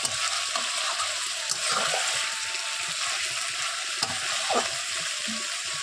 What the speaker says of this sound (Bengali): দেখো মাংসটা তেলে দেওয়ার পরেই একটা জল ছাড়ে